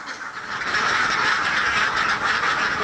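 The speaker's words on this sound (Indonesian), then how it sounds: "sisa makanan yang nyaris menjadi sampah ini diserbu bebek-bebek Mas Hur" A dense flock of ducks quacks continuously and loudly while eating leftover bread and food scraps nearly thrown away as trash, the overlapping calls forming a steady noisy chorus with no talk.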